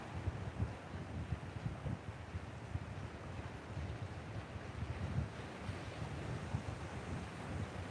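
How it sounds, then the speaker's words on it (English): Steady wind gusts across the coast at Fingal Head, buffeting the microphone over a low wash of surf, continuous and fairly faint, with no voices. "As you can tell, it's fairly windy here"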